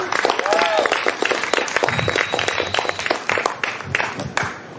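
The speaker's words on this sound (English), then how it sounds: "Let's give another round of applause, make some noise for the meditation, for the ceremony." Audience at a talk applauding after a meditation ceremony, a steady wash of many hands clapping with scattered sharper claps, fairly loud throughout with voices mixed in.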